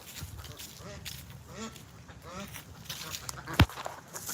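A duck quacks several times in a row, close and fairly loud, during a live stream, with people talking over the calls and a sharp knock near the end.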